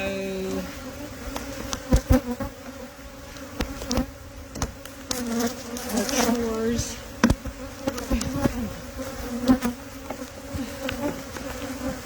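Honey bees buzzing steadily around a hive, a dense close drone with individual bees flaring louder as they pass nearby, continuing throughout without talk.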